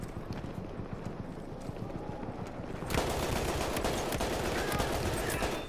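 Horse hooves clip-clopping in Battlefield 1 amid a steady din of gunfire and battle noise, a dense rapid patter that grows louder partway through.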